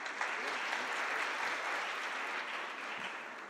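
Sustained applause from a conference audience welcoming a machine learning speaker to the stage, a steady dense patter of many hands clapping at moderate volume with no voices over it.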